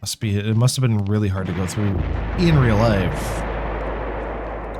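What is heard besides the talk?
mortar shelling and gunfire in Eternal Darkness video game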